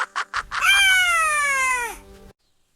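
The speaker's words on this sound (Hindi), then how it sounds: "बिल्ली नर्म होती है, म्याऊं म्याऊं करती है और चूहों को पकड़ती है" A cat gives one long, loud, drawn-out meow that slides slowly downward in pitch, preceded by a few short soft sounds, alone with no talk.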